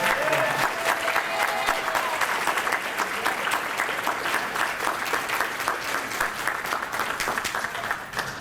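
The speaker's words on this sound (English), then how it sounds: "So let's give them another round of applause." An audience at a corporate convention applauds loudly and continuously, with a thick wash of overlapping claps and a few sharper individual hits, easing slightly toward the end.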